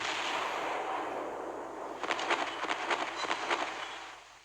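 The battleship Bretagne fires its guns in the Naval Creed video game, a rapid string of sharp, fairly faint booms that follows a fading rumble of wash and noise.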